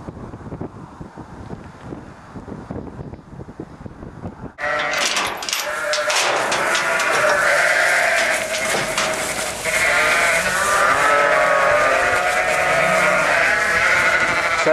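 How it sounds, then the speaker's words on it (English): Ewes on a farm coming out for feed bleat loudly and often at close range, many voices overlapping over heavy wind buffeting on the microphone. Quieter rustling comes first, then the flock's calls swell and carry on with no talk. "So these are the ewes coming out for the feed."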